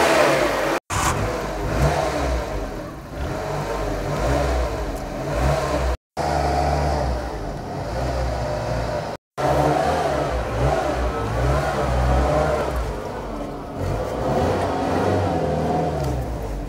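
A Nissan K11 Micra engine runs steadily on fresh fuel and a new battery, a close continuous mid-pitched hum with slight revving, broken by a few abrupt brief dropouts.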